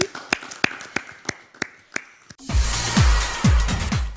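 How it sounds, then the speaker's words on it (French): Contest candidates on a TV studio set applaud themselves at a young presenter competition, beginning with scattered single claps before a fuller burst of clapping joins in, mixed with low thuds and tones. "Applaudissez pour vous-même, chers candidats."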